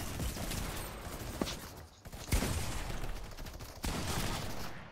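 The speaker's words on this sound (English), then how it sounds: "I'm getting shot behind a wall, man." Gunfire crackles in a creative-mode video game, with a couple of sharp nearby shot cracks over a busy background of rapid distant firing.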